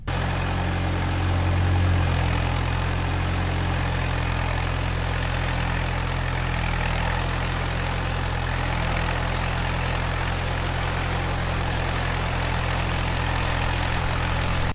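A Mahindra tractor fitted with cage wheels works a paddy field, its engine droning as a steady low, loud hum that holds evenly throughout with no talking.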